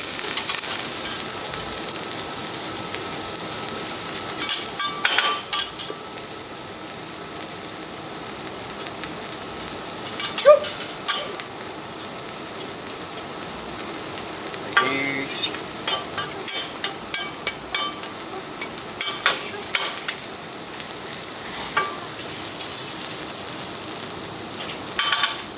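Scallops and salmon steak sizzle on a teppanyaki grill at a restaurant in Phuket, Thailand, with a steady hiss of hot metal and frequent clicks and taps of spatulas against the plate.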